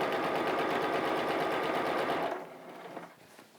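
A sewing machine stitches Star Wars pajama pants, a steady fast whirring run for about two seconds that then stops, leaving faint handling noises.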